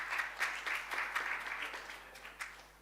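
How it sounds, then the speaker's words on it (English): A small audience claps for a speaker introduced at a food research panel, a light patter of scattered applause, fairly faint and fading out. "So let's give her a big round of applause"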